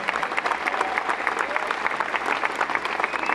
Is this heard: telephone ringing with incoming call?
no